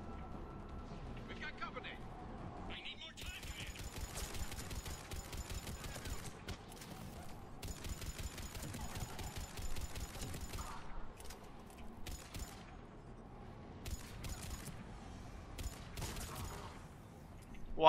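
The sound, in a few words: explosive gunshots in the video game Mass Effect 3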